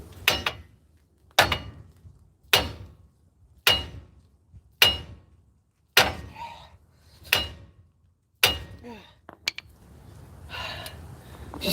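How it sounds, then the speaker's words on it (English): A hammer pounds on the front suspension steering knuckle of a 1997 Chevy truck. About eight loud, evenly spaced metallic blows ring out close by, then a few lighter clanks and shuffling follow. "Now you're gonna hit right there on the knuckle."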